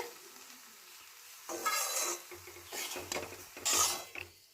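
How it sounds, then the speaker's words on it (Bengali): Pre-roasted semolina for upma stirred in a pan, bursts of scraping and rustling with soft metallic knocks, close and fairly loud, in uneven strokes after a quiet first second and a half; no voices. "এবার আমি আগে থেকে ভেজে রাখা সুজিটা দিয়ে দিচ্ছি দিয়ে ভালো করে নাড়াচাড়া করে নিতে হবে"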